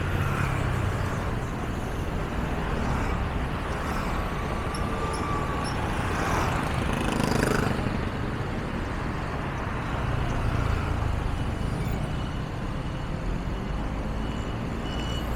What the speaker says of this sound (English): Some local afternoon traffic.